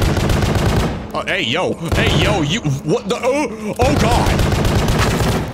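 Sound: bulk gun firing in a video game

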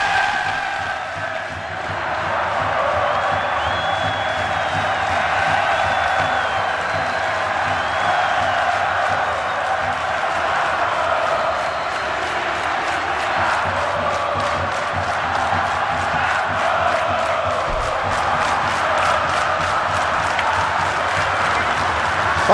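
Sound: football fans cheering as Fluminense takes the field at Engenhão

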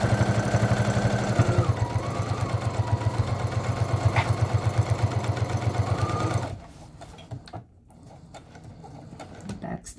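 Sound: sewing machine backstitching a seam on a snack bag

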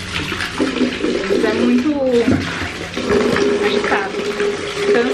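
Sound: water poured into dogs' drinking bowl

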